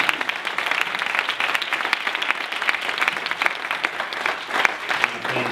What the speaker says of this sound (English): I'm going to ask for a big round of applause to.